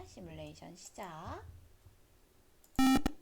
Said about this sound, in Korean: 시뮬레이션에서 부저가 울릴 때 물결 표시가 나서 소리가 난다는 것도 확인하실 수가 있습니다